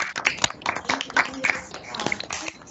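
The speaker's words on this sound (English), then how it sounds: "A round of applause for our wonderful panelists." A summit audience applauds the panelists, a dense wash of clapping that fills the room alongside a voice talking over it.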